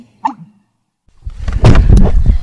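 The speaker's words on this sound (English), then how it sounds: "An American bittern, which is a large, well-camouflaged wading bird that makes a weird sound like this." A wild American bittern, a large wading bird, gives its odd call in a Maine outdoor setting: a short hollow gulp, then after a pause a louder, deep, rumbling pumping sound that continues strongly to the end.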